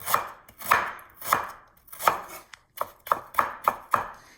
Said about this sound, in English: I like my ginger big chunks like this